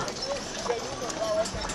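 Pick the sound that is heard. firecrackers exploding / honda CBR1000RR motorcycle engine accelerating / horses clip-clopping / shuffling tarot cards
horses clip-clopping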